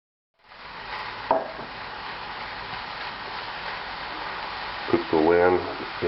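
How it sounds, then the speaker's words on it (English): Lamb fries in a hot pan with no added fat, a steady loud sizzle throughout, broken by a couple of sharp scraping knocks of a utensil and a spoken voice near the end. "Cook the lamb in a hot pan."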